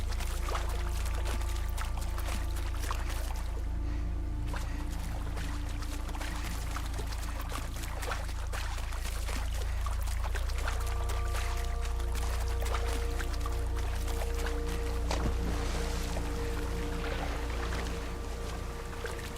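Water rushing steadily near a waterfall in Horizon Zero Dawn Remastered, a dense continuous pour with a low rumble underneath, close and unbroken throughout, without speech.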